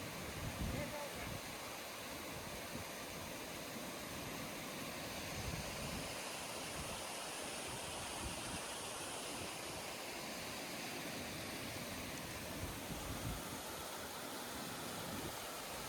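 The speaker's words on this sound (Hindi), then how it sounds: "हमें पहली बार आकाश गंगा नदी नजर आई, जिसके तेज बहाव को हम पार कर आगे बढ़े।" The fast-flowing Akash Ganga river on the steep climb from Gaumukh toward Tapovan gives a steady, even broadband rush of water that holds unchanged throughout at a moderate distance.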